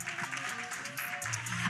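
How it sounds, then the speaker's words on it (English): Audience at a community outreach session clapping, a brief, fairly faint spread of applause with some background murmur. "Clap one more time."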